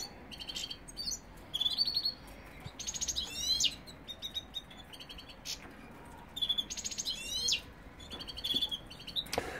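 Goldfinches in an aviary chirp and twitter in repeated bursts of bright, rapid song, fairly close, over a steady low background hum.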